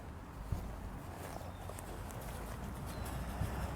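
Horse hooves thud softly and rhythmically on an arena surface during a cantering riding lesson, faint and fairly distant, with a steady background hiss.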